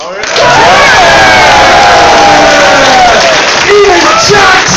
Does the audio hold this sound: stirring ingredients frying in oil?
no